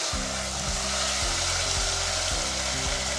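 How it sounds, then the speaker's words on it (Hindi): Chicken for chow mein cooks in a pan over medium heat, giving a steady, close sizzle over a low hum, with soft knocks recurring every half second or so. "10 मिनट तक इसको मीडियम आंच पे हम पकाएंगे।"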